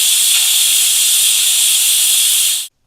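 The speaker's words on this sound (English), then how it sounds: "You can see the pressure releasing." Steam hisses hard and continuously from a pressure cooker cooking mutton gravy, a loud, even blast that cuts off abruptly near the end.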